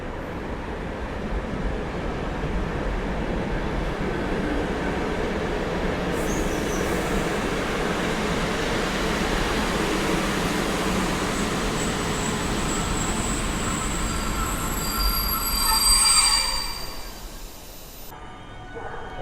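The TLK Staszic passenger train pulls out of Warszawa Zachodnia station with a steady, loud rumble of rolling wagons and a faint high wheel squeal, swelling briefly near the end before easing off.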